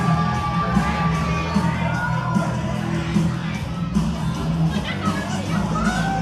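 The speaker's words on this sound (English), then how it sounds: "this crowd certainly seems to be on board with Dick Danger, even if Danny Vincent isn't." A live wrestling crowd at an ACW Proving Ground show cheering and shouting for a wrestler, a dense loud roar with scattered whoops and yells over a low background hum, with voices talking within it.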